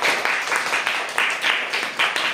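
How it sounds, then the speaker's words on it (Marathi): A primary school class applauds for a pupil named Sayali, brisk rhythmic clapping in unison, close and lively, pulsing in regular bursts throughout. "सायलीसाठी जोरात टाळ्या"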